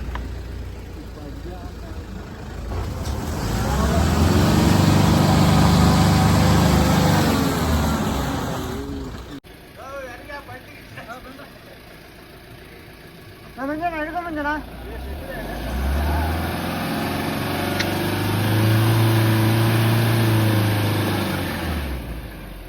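A vehicle stuck on a steep hill road at Patla Betta near Sakleshpur, Karnataka: its engine roars loudly in long, sustained revving strains, cuts off briefly, then revs hard again, with people talking throughout.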